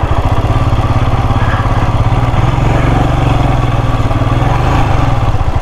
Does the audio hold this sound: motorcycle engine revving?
yes